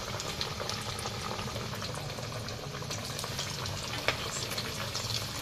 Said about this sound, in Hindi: अब हम इनको फ्राई करते हैं